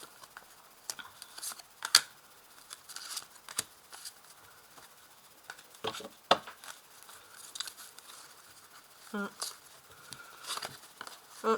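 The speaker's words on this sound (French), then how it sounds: "je vais ajouter des cartes là-dessous." Tarot cards are laid down during a reading, making soft papery slaps and crinkly rustles at irregular moments while a voice talks in between.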